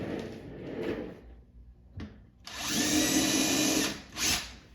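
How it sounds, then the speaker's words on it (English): A power drill spins up in two short bursts, then whines steadily for about two seconds as it bores into a wooden pinball side rail, ending with a brief final rev. "Again, drill."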